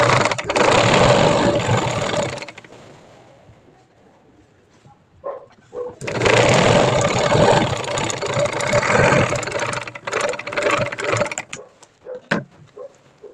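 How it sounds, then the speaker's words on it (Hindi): A sewing machine runs a straight stitch along a salwar in two long bursts of steady, fast rattling whir separated by a quiet pause, close and loud, with a few short clicks at the end. "अभी मैं आपको सिलाई चला के दिखाती हूँ।"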